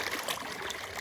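A risen creek in western North Carolina rushes and trickles steadily nearby, a continuous close babble of flowing water with no voices.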